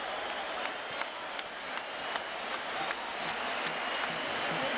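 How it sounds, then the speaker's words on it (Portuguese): Grêmio football fans applauding a title win, steady dense clapping from a large crowd, heard at moderate distance with a faint murmur of voices underneath. "a torcida comemorando"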